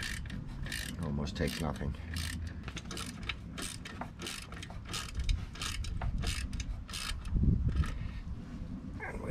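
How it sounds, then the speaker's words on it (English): Two socket wrenches ratchet while tightening saddle bag bolts on a Can-Am Ryker, giving bursts of quick, close clicking strokes in an uneven rhythm with a brief spoken remark. "I found it easiest here just to use two socket wrenches. Then you can easily tighten those up."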